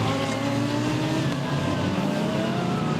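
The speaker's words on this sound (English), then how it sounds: "Well, it's not Yang Baiji, it's actually the number 96 car is looking to be very, very rapid indeed" GT race car engine at a China GT Championship race at Zhuhai, a steady loud drone with rising pitch as the car accelerates, close and constant throughout.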